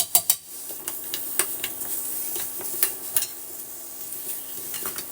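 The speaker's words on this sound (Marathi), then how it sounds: "आता ही भांड ठेवलेली आहे त्यात मी गूळ टाकते गूळ आपण विरघळून घेऊया छानपैकी" Jaggery melts in a pan while a utensil stirs it, with light scraping and clinking strokes repeating unevenly over a soft sizzling hiss and a faint steady hum, close and fairly clear.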